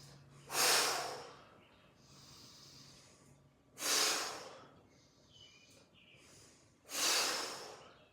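Slow, deep breaths during a qigong exercise, three long airy inhalations close to the microphone with quieter exhales between, no talking.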